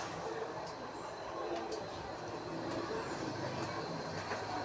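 A metro train runs with a steady, loud rumble and rattle that holds unbroken across the whole stretch, a continuous rail-car roar close at hand.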